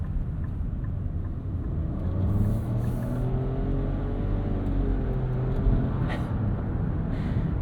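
A 2025 Nissan Rogue crossover with a turbocharged three-cylinder engine and CVT, driven in sport mode on a commute, gives a steady loud cabin drone with rising and falling engine tones, no talking.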